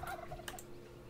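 A chicken running around in a Roblox game, quick faint clucking calls in a short burst, somewhat distant over a low background hum.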